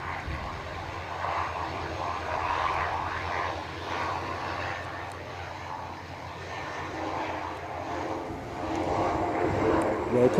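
A fixed-wing airliner roars through a takeoff or landing at Edinburgh Airport in windy weather, a loud, sustained engine rumble that swells and eases over several seconds. A voice is faintly audible under the noise.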